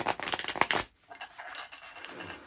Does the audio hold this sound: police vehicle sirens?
no